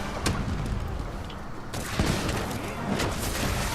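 Bombs blasting in the Monster Hunter World video game, a dense run of booming explosions and crackling impacts with sharp bursts near the start and around the two-second mark, loud and continuous throughout.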